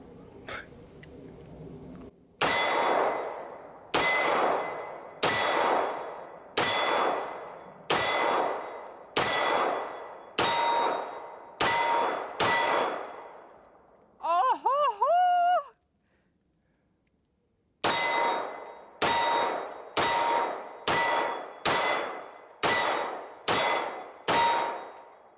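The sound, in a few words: bullets from Kimber 2K11 pistol hitting steel target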